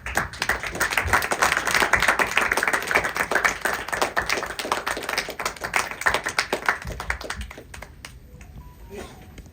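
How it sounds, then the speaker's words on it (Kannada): An audience at a film success press meet giving a standing ovation, brisk close-range clapping that stays full for several seconds and then thins out and stops. "ಎದ್ದು ನಿಂತ್ಕೊಂಡು ನಿಮಗೊಂದು ಚಪ್ಪಾಳೆ ಕೊಡೋಕ್ಕೆ ಇಷ್ಟಪಡ್ತೀನಿ."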